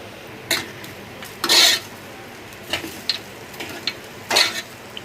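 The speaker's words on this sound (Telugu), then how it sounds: "షుగర్ వేసుకున్న తర్వాత డ్రై ఫ్రూట్స్ కూడా వీటితోటే ఫ్రై చేసేద్దాం. అన్నీ వేసేసుకొని బాగా కలుపుకుందాం." Beetroot halwa stirred in a pan with sugar and dry fruits, a spoon scraping in a few brief, sharp bursts over a faint steady sizzle, close and fairly loud with no voices.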